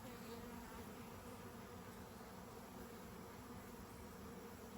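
Swarm of honeybees being sealed into a hive, a dense steady buzzing hum throughout, faint and continuous with no talk.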